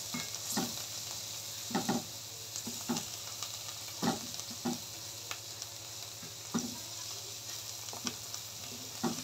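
Sautéing in oil in a pan for an Alexandrian-style clam dish, a constant sizzle broken by regular scraping stirs and light utensil clinks, close and without talk.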